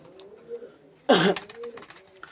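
A pigeon from a loft of young birds gives a soft, low coo, followed by a sudden loud rustling burst like flapping wings, and then another faint coo trailing off close by.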